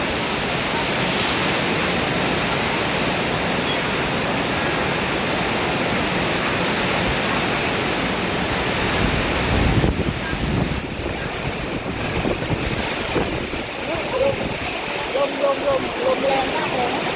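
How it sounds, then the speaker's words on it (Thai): Heavy rain and a strong, gusty wind storm arriving at a home: a continuous loud roar of rain and wind noise, with gusts swelling and buffeting the microphone through the whole stretch. "ฝนตกหนักแล้วนะคะ"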